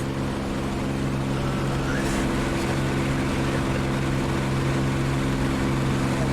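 A P-51D Mustang piston propeller engine in the DCS World flight simulator drones steadily as a loud, even, low-pitched roar throughout, with no speech.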